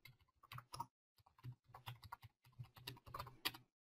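Rapid keystrokes on a computer keyboard while a Python program is entered, coming in irregular clusters of clicks with brief pauses, close and fairly quiet, no voices.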